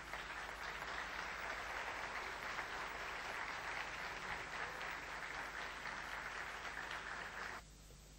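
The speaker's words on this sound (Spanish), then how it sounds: "Un fuerte aplauso para ellos." Concert audience applauding the musicians after a charango performance, a continuous even roar of clapping that holds steady for several seconds, then cuts off abruptly near the end, leaving a faint hiss.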